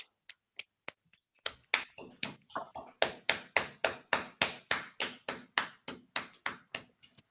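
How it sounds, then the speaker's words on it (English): Scattered, then steady hand claps from an online audience applauding at the close of a mathematics lecture, a few isolated taps at first building into a sustained run of sharp, fairly close claps, with no talk. "give Serge a round of applause"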